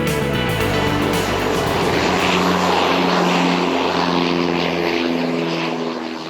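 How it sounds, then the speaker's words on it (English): An Air Southwest propeller airliner touches down at Bristol Airport on its return from Manchester. Its engines drone loudly and steadily, with a layered humming throb, and the roar eases slightly toward the end. Nobody is talking. "The Air Southwest flight touches down on its return from Manchester."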